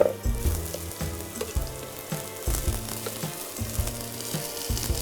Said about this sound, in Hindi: अब ये जाएगा सारा का सारा प्याज इस ऑयल में।